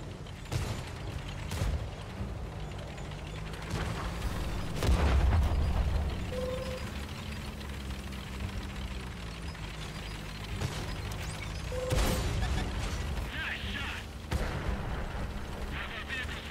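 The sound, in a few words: tank being shot at in World of Tanks video game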